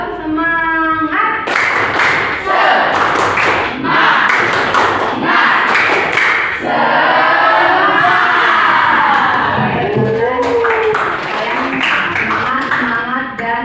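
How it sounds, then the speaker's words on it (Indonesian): A school class repeats a spirit clap chant, with sharp clustered clapping bursts and shouted group chanting and cheers, loud and close, in a longer run than before. "Oke, sekali lagi. Tepuk semangat."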